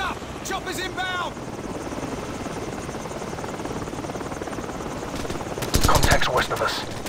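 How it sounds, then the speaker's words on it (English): A helicopter's rotor thumps steadily throughout, loud and close, with bursts of gunfire and shouted voices layered over it in a Call of Duty 4: Modern Warfare scene. "Heads up! Chopper's inbound!"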